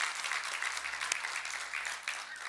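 A congregation in a church service claps loudly for the Lord, a dense, continuous burst of applause with slight swells and no speech over it.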